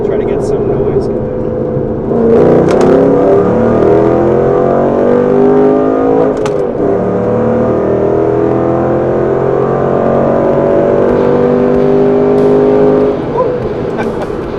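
A 2008 Ford Mustang Bullitt Edition engine hums steadily, then revs up into a loud rising drone as it accelerates, easing off near the end.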